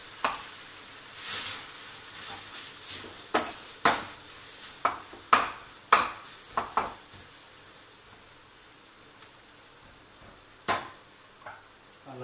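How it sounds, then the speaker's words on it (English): Potatoes being mixed into a beetroot mixture for vegan beetroot kebabs, heard as a run of close clinks and scrapes of a utensil against a bowl in an uneven rhythm, quieter toward the end, with no talking. "Just need to mix these potatoes well into it."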